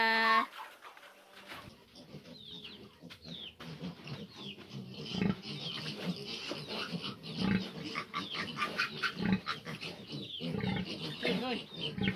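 Piglets, about 19 days old, grunt and squeal while being fed alongside their sow, a busy, continuous mix of close animal noises with occasional louder bursts and some background talk.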